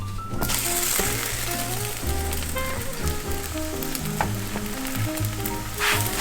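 Chapatis fry in a hot pan in a home kitchen, a close, steady sizzle with occasional crackles and scraping stirs, while background music or a voice hums faintly underneath.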